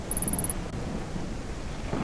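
A low, continuous rumble of thunder rolls through a stormy night in a dinosaur survival video game, steady and fairly loud for the whole stretch, with a faint high tone in the opening half second.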